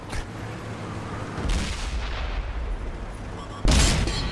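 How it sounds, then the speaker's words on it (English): Artillery fire in a World of Tanks match on PS4 comes through as broad booming blasts, one near 1.5 seconds and a louder, closer impact near 3.7 seconds, over continuous rumbling battle noise. "Oh, there's the artillery."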